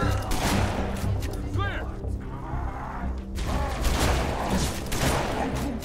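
Rapid bursts of gunfire in the Halo: Reach video game at a base under attack, loud and continuous amid booming, mechanical game effects and music, with no voices heard.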